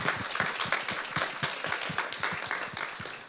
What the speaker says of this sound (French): Des applaudissements et pour nos invités et pour Trésor Macounda